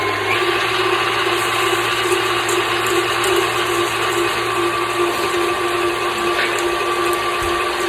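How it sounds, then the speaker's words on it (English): A stand mixer beats egg yolks for eggnog at a higher setting, giving a steady, close motor whir with a constant hum that does not change in loudness. "once all the yolks get broken up, I go into a higher setting"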